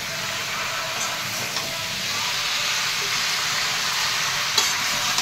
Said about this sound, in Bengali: ওই দেখ এই শাকটা কষানো হচ্ছে।